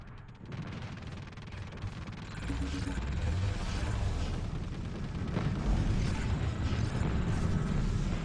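Sustained automatic fire from a video game weapon, the trigger held down without a break, forming a dense, steady mechanical clatter that grows louder partway through and runs continuously under a busy game mix.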